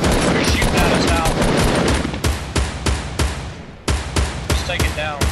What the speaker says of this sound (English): You're shooting at us now.